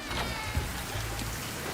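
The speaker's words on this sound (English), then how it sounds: "Why is he in the rain?" Steady rain falling outside in a dramatic scene from the 2010 film The Social Network, a continuous dense patter with no voices over it.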